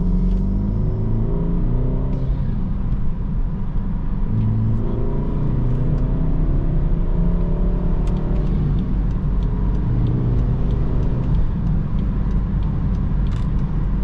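A BMW F30 four-cylinder with a stage 1 tune pulls onto a highway, its engine rising and falling through gear changes as a deep, loud interior rumble with steady road noise, and no talking.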